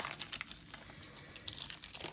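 Football trading card packs from 2020 Contenders hobby boxes are torn open by hand, giving close, busy crinkling and ripping of foil wrappers in quick irregular bursts, with no talking.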